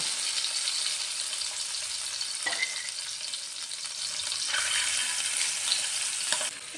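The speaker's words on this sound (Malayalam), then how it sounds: "എണ്ണ ചൂടായി വരുമ്പോൾ ഈ മുട്ട ഓരോന്നും ചേർത്ത് കൊടുക്കാം" Eggs fry in hot coconut oil in a pan, giving a continuous close crackling sizzle that stays even throughout, with a couple of faint clicks.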